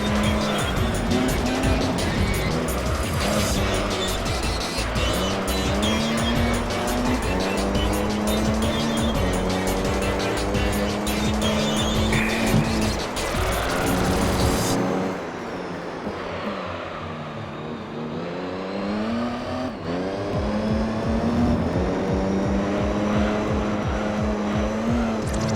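Gran Turismo 3 video game race cars roar and rev continuously with squealing tires, engine pitch rising and falling through shifts; the engine tone drops and thins partway through.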